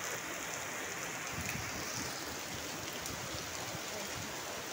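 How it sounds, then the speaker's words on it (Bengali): Heavy rain falls in a dense, even roar, with scattered drops pattering nearby throughout. "ভালো বৃষ্টি হচ্ছে।"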